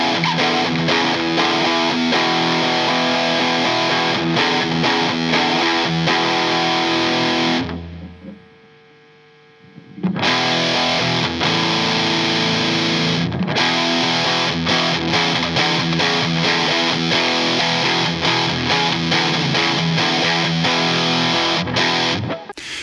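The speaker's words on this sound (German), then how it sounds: "ich werde jetzt mal einfach nur einen Ton spielen und mal langsam von Overdrive zu Distortion wechseln" An electric guitar holds a single sustained note, its tone shifting gradually from overdrive to heavier distortion, loud and continuous with a brief drop near the middle before the note returns.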